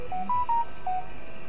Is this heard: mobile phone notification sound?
yes